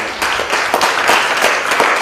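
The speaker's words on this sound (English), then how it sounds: "Could you please give these students a round of applause for me?" An audience at a school computer studies fair gives students loud, dense, sustained applause, many hands clapping close by without pause.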